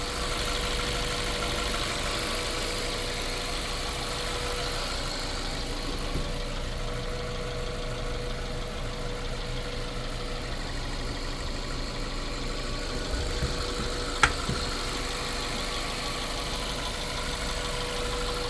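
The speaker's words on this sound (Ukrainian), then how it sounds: "Двигун працює абсолютно без нарікань." A 2008 Mazda 3 engine idles steadily and evenly for a long stretch, a low constant rumble close by with one brief click near the end.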